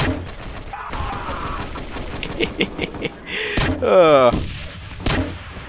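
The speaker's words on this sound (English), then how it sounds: "Speaking of grenade launcher, I'm using grenade launcher right now." A grenade launcher fires in the shooter game SMOD Outbreak, several sharp thumping shots and blasts among in-game sound effects over about six seconds, with a brief grunt from a voice.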